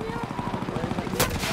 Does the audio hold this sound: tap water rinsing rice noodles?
no